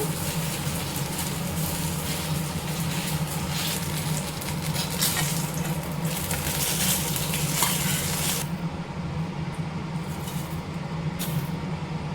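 Tempering with grated coconut and asafoetida frying in oil for brinjal curry, a steady close sizzle with occasional stirring scrapes, continuous and without talk.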